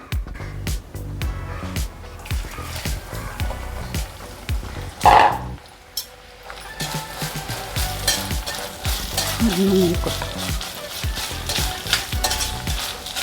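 Grated coconut fries in hot oil for a Kerala catering-style chicken roast, a steady close sizzle broken by scraping stirs, with one sharper clatter partway through.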